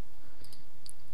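Mouse clicks while navigating the Nautilus file manager's menus on Linux: a few quick, close, crisp clicks spaced within about a second.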